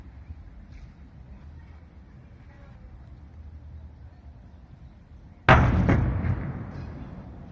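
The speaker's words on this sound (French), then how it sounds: "J'ai réussi à trouver une vidéo de la première explosion donc sur YouTube." After a low, quiet rumble, a single heavy gas cylinder explosion at a sports centre in Louvain-la-Neuve booms suddenly from a distance and rolls away in a long, fading echo.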